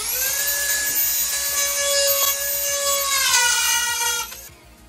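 A power cutting tool with a bit cuts drywall along the top of a wooden frame in an old house, a loud, steady high-pitched whine running close for about four seconds before winding down.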